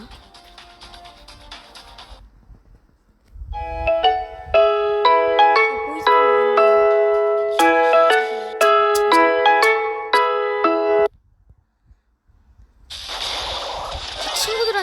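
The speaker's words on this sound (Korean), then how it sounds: "전화가 왔습니다" An incoming-call phone ringtone plays a bright, melodic sequence of chiming tones for several seconds, loud and clear, between game sounds from a Brawl Stars match.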